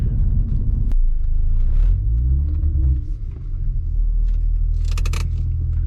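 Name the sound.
Acura TL car engine driving with solid engine mounts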